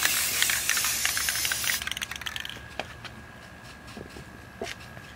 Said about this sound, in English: I'm spraying in our rock garden,